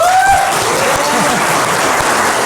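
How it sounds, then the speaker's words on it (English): Applause from a Pecha Kucha talk audience fills the room, dense and loud, steady throughout with a few cheers and whistles mixed in. "But let's get some applause for that one anyway."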